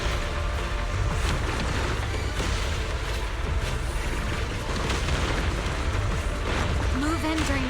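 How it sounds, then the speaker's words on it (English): Explosions in Zenless Zone Zero combat, rolling booms and bursts layered over a dense game soundscape with music and effects, continuous and loud throughout. "Move in during the gaps between explosions"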